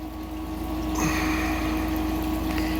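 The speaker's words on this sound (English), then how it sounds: "So what I'm doing is I'm turning the spin water here up." Water runs steadily through a Gold Drop gold concentrator as the spin water flow is turned up, a constant close rushing wash with a low pump-like hum and a faint tonal whine beneath it, no talk.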